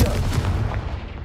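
Confringo blasting spell in Hogwarts Legacy gives a single loud, close boom that hits at once and rumbles away over about a second.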